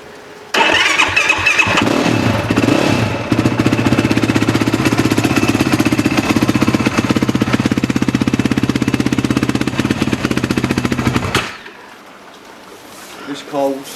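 A cold Yamaha YFZ 450 quad engine is cranked and catches, then idles with a loud, rapid, rattly single-cylinder beat for about ten seconds before cutting off, with talk heard around it.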